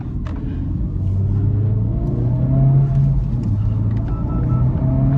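Steady, close engine rumble and low burble from a 2024 Acura Integra Type-S with its 1.5-litre engine while driving, holding a fairly even drone with slight rises in pitch throughout.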